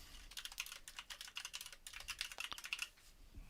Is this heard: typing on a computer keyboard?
yes